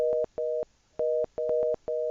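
A failed call on a Cisco CME phone system sounds a clear two-tone beep that repeats in short bursts of about a quarter second, with brief silent gaps between them.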